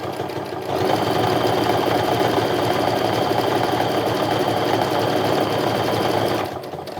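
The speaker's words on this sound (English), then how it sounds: "I'm going to top stitch one more time here across the top of that open pocket" A sewing machine top-stitches across the opening of a fabric wallet pocket, starting after a brief pause and running at an even, rapid, close-up whir for about six seconds before stopping.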